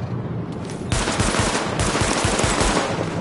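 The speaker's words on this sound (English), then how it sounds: "Open fire at the highlighted targets." Rapid automatic gunfire at highlighted targets during a weapons test in Tom Clancy's The Division, loud and sustained bursts of repeated shots with no talking.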